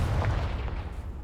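Confringo blasting spell cast in Hogwarts Legacy, a deep booming explosive blast with rumbling low end, loud and close, fading briefly.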